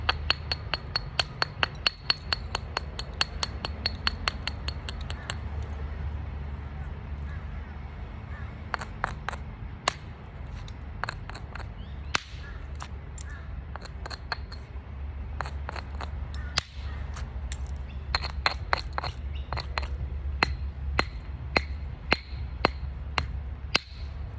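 Flint knapping on a Solutrean biface: sharp, ringing clicks of strikes taking flakes off the stone edge, coming in quick bursts separated by pauses, close and crisp over a low steady background hum.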